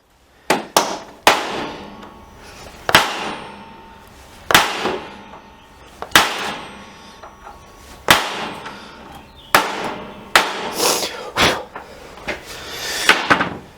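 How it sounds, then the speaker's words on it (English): Sharp metallic hammer strikes setting rivets through a tube, irregular and spaced a second or so apart, some in quick pairs, ringing briefly in a quiet workshop. "I have a tube that goes around the rivet to seat the material properly, and then I can hammer more firmly"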